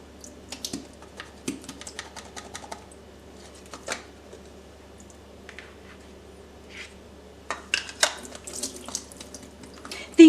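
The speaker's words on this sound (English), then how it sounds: "I am going to drain the liquid with a strainer." Liquid from cans of casing-free Vienna sausages drains through a strainer in a kitchen, heard as scattered splashes, trickles and small metallic clicks and taps in quiet bursts, with a livelier cluster of clatter near the end.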